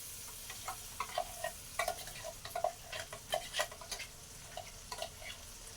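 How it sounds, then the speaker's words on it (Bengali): Ground spice paste going into a hot pan for mutton curry, with a soft steady sizzle and repeated light clinking taps of a stirring spoon, quiet and close. "আমি এখন মাটন রান্নার জন্য এই বাটা মশলাটা দিয়ে দিচ্ছি"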